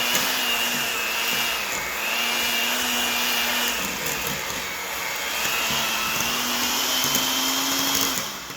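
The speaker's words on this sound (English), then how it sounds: "I have to mix this for a few more minutes, folks." Electric mixer beating white chocolate chip cookie dough, a steady loud motor whine that dips and rises as the beaters work through the flour, with no talk.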